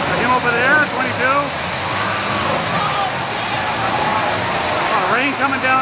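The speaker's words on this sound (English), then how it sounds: "Oh, rain coming down now." Rain pours down during a demolition derby heat at the Monroe County fair in Michigan, a steady, dense hiss that runs throughout with faint murmuring in the background.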